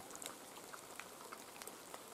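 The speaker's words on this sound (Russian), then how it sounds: "А в тайгу такой дождь." Steady rain falls in the taiga forest of Komi during a hunting trip, a soft dense patter of drops on surfaces with scattered sharper individual drips, continuous and fairly quiet, with no voices.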